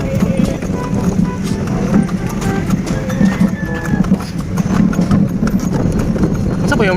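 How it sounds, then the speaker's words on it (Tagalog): A horse pulls a kalesa through Colon, Cebu, its hooves clip-clopping in a steady rhythm on pavement beneath constant street noise and nearby talk. "Ang kabayo guys."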